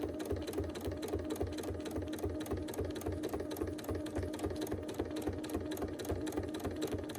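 A sewing machine stitches in the ditch during free-motion quilting, running in a steady rapid rhythm of needle strikes with a low motor hum, close and continuous throughout.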